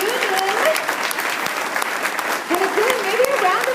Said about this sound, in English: maybe a round of applause for Randy